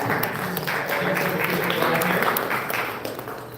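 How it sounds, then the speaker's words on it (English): An audience at a company launch event in Columbus, Ohio, applauds. The clapping comes in a dense, steady burst that holds for a few seconds and then begins to taper off, with faint crowd murmur underneath. "So everyone give a round of applause for Ray."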